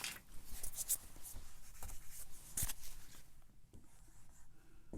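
Writing on a board during a linear programming lecture: quiet scratchy strokes and taps in short bursts, faint and close, without talk.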